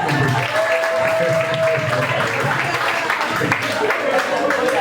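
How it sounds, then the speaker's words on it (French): A church congregation applauds and claps together during a sermon, a dense crackle of many hands that fills the room, with a voice and a held musical tone underneath. "On acclame le Seigneur"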